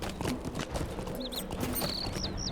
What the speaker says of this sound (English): Here's a little horsey.